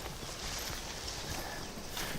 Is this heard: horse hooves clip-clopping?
yes